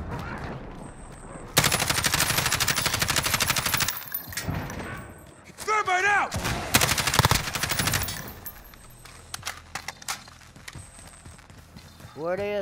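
Call of Duty: Modern Warfare gunfire, loud sustained automatic bursts in long stretches with short pauses between, then scattered single shots trailing off, close and dominant without talk.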